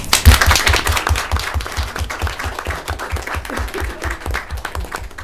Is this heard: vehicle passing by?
no